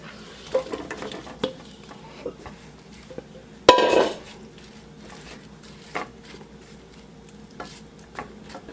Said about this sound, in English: I'm just going to add the potatoes in.